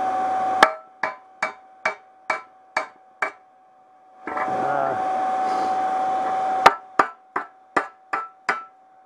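Slag being chipped off freshly plasma-cut steel: a steady series of sharp metallic hammer strikes, about one every half second, with a continuous roar from the plasma cutter running in between, close and loud.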